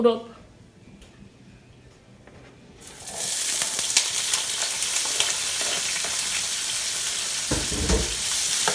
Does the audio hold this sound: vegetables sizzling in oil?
yes